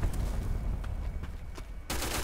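Rapid automatic gunfire in the online shooter game Black Squad, a dense continuous burst of shots close up that breaks off briefly before another loud volley starts.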